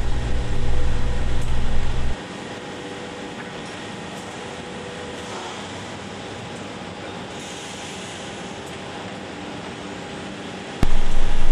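An automated CNC machine for cabinet panels runs steadily in a workshop, a continuous mechanical hum with a louder low rumble at the start and end, likely vacuum and loading motion, with no talking.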